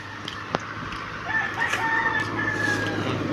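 Fighting roosters crow in a rural roadside setting, a couple of drawn-out calls rising over a steady low background hum, moderately distant and with no voices over them.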